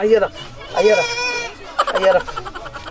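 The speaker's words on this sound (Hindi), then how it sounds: "लक्ष्मीनिया बकरी तू ही हमर धन के लक्ष्मी था" A goat bleats in a Maithili village comedy skit, its wavering cries coming in two or three loud, close calls between stretches of speech.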